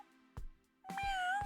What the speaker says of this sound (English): There's freaking meowing coming from the vents.